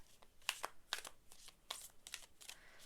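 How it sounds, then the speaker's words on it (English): Tarot cards given a messy shuffle, several quick crisp riffles and slaps in irregular bursts, close and fairly quiet, with no voices. "This is a messy shuffle."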